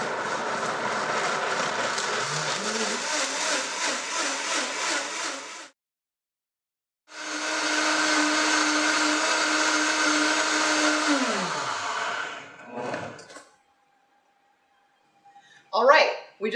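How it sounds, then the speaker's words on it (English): A blender whirs loudly as it blends whole soybeans with two cups of water, running in two long bursts separated by a pause, the second winding down in pitch as it stops, with short clatters afterward. "we just blended our whole soybeans and our 2 cups of water"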